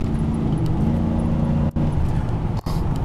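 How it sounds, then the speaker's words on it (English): A truck engine fitted with a K&N open intake held at medium throttle, a steady, loud, droning roar that runs nearly unbroken except for two brief dips. "This truck, it sounds really cool with the K&N open intake."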